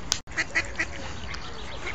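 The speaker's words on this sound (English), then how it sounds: "Here are alive ducks." Live ducks quack a few short times against steady outdoor background noise in a town green space, moderately near and fairly soft.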